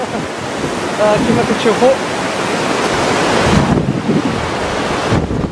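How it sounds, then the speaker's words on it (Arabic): Floodwater rushes fast through a river valley near a bridge during severe flooding in Morocco, a loud continuous roar with wind buffeting the microphone close up, while someone talks over it. "ها الماء هنا، ها هو الماء ورايا"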